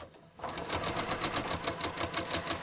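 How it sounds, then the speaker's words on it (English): A sewing machine stitches along a seam on a half-inch line, running with a steady, fast, even rhythmic chatter from start to finish at close range. "Well, first we'll stitch along the 1/2 inch line."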